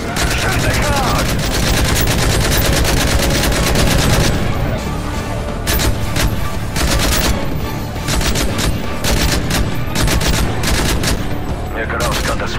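Sustained automatic gunfire fills a Call of Duty: Modern Warfare 3 battle, loud rapid bursts overlapping almost without pause, with voices shouting underneath.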